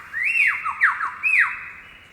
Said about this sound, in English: The male lyrebird is well known for his unique ability to mimic the calls of other birds.